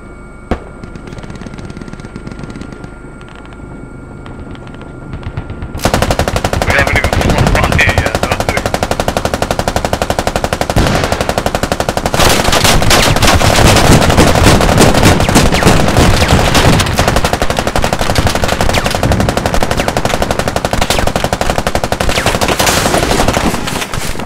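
A helicopter flyby in the combat video game Squad, with sustained loud machine-gun fire and gunshots that start abruptly after a quieter opening and continue densely to the end.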